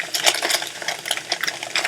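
Broccoli tossed into a hot pan where fish is nearly done frying, setting off a close, busy sizzle and crackle of spitting oil with small clinks, steady throughout and with no talking.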